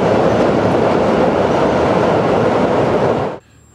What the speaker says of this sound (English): when a train goes over it, it's very, very loud